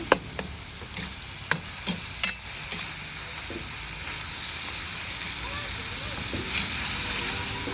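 Pork mince sizzles steadily in a pan with garlic, onion and tomatoes as it is sautéed, with several sharp stirring scrapes early on and a continuous frying hiss that grows slightly louder toward the end.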